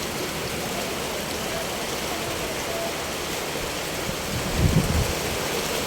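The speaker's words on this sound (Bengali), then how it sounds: "আবার বৃষ্টি বাড়তেছে।" Rain pours steadily as a dense, even hiss that grows heavier, with a brief low rumble near the end.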